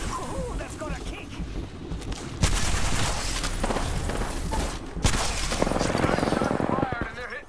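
Gunfire crackles in the battle royale game Apex Legends, repeated bursts and heavy shots layered over game effects, with voices talking throughout and two sharp impacts standing out.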